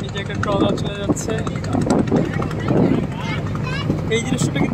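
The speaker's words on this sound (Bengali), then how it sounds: "এই যে একটা ট্রলার চলে যাচ্ছে," A trawler passes along a sunlit river, its steady low engine drone running throughout beneath continuous talking and some wind buffeting.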